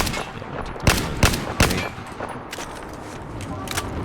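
Recon rifle shots in Battlefield 4, three sharp, loud reports in quick succession followed by a few fainter shots and game ambience.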